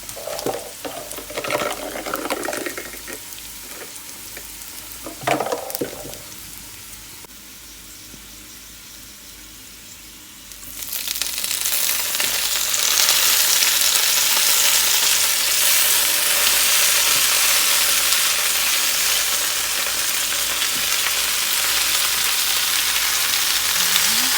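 Water spinach stir-frying with garlic in a hot pan, a loud, steady broadband sizzle that surges up partway through after some quieter clinking and scraping.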